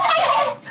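A turkey gives one short, loud, close gobble that breaks off abruptly, heard alone with no talking.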